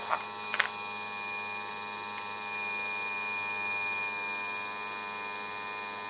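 A stepper motor driven as a generator hums with a steady tonal whine and fine harmonic buzz, loud and continuous throughout, with a few brief clicks near the start.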